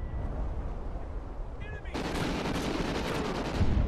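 A gunshot rings out in a search and destroy video game match, a sudden loud burst cutting into steady background noise.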